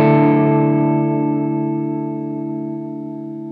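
Guitar through a TC Electronic Shaker vibrato pedal at its slowest speed: a single sustained chord with a slight, slow pitch warble, slowly decaying and close, with no talking.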